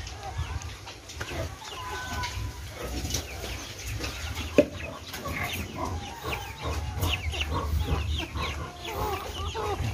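Chickens cluck and chatter close by in a busy farmyard, with scattered calls, rustling and a sharp knock partway through.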